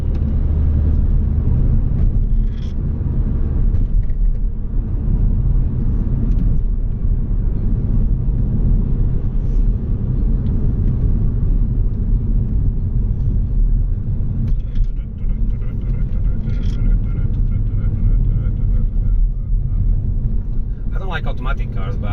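A Peugeot Citroen C4 with a repaired gearbox and ABS/ESP fault drives and accelerates through quick gear changes, its engine a steady loud low rumble throughout with a voice talking over it.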